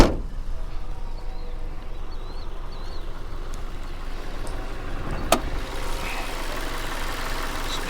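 Faint, steady idle of a small Ford 4-cylinder engine in a 2016 Ford Transit Connect XL van, heard with the hood up, holding an even low hum with one sharp click partway through.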